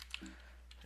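A few soft keystrokes tap on a computer keyboard, quiet and brief, with a low steady hum beneath and no talking.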